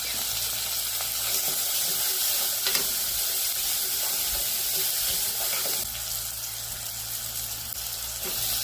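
Chopped onion and tomato sautéed in hot oil with salt, giving a steady, close sizzle with occasional soft spoon scrapes and stirring knocks throughout; no one speaks.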